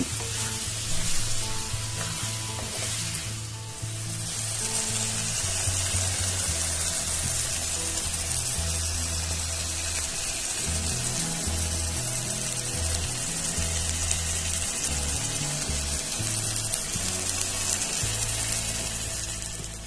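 Chicken kosha sautéing in a little oil, with a loud steady sizzle and spatter filling the whole stretch and occasional stirring knocks, no voices.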